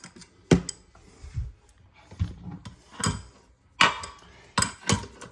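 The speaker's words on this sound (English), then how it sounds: "start tightening them with a wrench, and you want to alternate between each side" A wrench tightens the bolts at the base of a toilet, giving scattered metallic clicks and ratcheting scrapes in short bursts, up close, with no talk.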